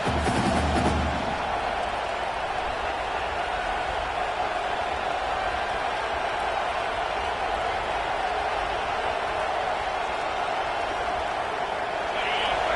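A large football stadium crowd at an LSU game keeps up a steady, dense roar from start to finish, loud and continuous with no pauses.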